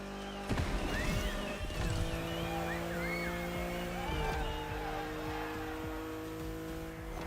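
A BMW M4 Liberty Walk Edition driving in the racing game The Crew Motorfest, its engine holding a steady drone with rising and falling revs and a gear shift, tire squeal and whooshing road noise throughout.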